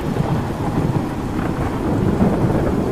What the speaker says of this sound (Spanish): Ahora está lloviendo y todo.